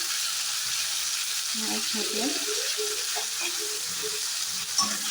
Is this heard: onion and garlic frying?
yes